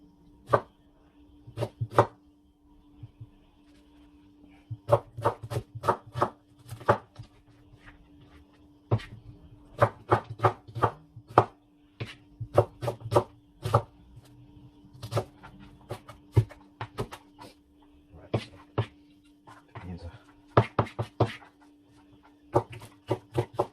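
A kitchen knife chops garlic and other ingredients for a Guyanese pepper pot on a cutting board, with close, sharp knocks in irregular bursts and quick runs of taps across the whole stretch and no talking.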